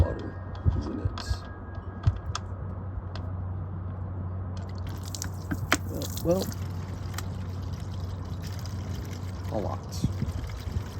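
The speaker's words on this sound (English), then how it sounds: "We're gonna pull the plug and see how much water is in it." Water pours and drips steadily from a 1986 K10 engine after its drain plug is pulled, with a continuous trickle and scattered splashes as someone speaks briefly.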